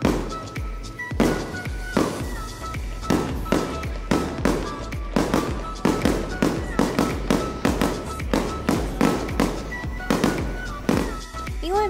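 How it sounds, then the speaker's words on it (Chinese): Fireworks bursting in a rapid, irregular series of sharp booms and crackles, many close together, some with a fading rumble, loud and continuous, heard outdoors on Santorini with scattered voices in between. "竟然看到放烟火耶"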